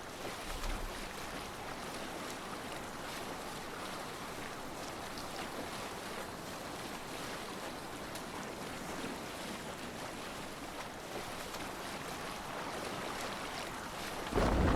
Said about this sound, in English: Can't be sailing here, Eivor.